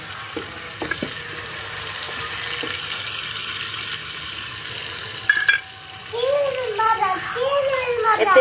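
Paneer curry masala of tomato, cashew, green chilli, ginger and poppy seed paste sautéing in a pan, a steady soft sizzle and stirring under kitchen noise, with a voice speaking over the later part.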